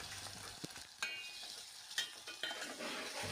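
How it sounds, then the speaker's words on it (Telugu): Chili powder being stirred into food in a pan while making pasta, with a steady soft sizzle and a few sharp scrapes of the spoon against the pan, no voices. "మిరప్పొడి వేసాక బాగా కలబెట్టాలి."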